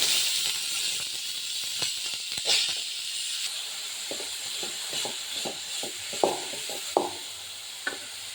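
Chayote (chow chow) with onion sautéing in a pan, a steady sizzle and hiss with occasional soft scrapes and taps of a spatula stirring, close and even.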